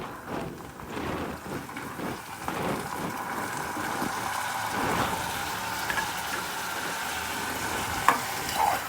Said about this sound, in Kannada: ಮಿಕ್ಸ್ ಮಾಡೋಣ ಇವಾಗ ಗೋರಿಕಾಯಿ ಹಾಕೊಳ್ಳೋಣ